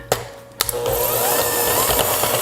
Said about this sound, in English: Mix this together until the caramel and the butter are well combined.